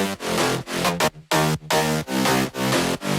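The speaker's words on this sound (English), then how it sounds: "which is the basses. They sound like this." Layered synth bass built from FL Studio sound bank presets plays a dense, loud run of rhythmic notes with brief gaps between phrases, with no voices over it.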